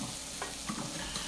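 Onions and celery sweat in a pot for clam chowder, giving a low, steady hiss with a couple of soft stirring scrapes, close and moderate in level without speech.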